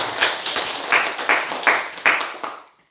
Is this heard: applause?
yes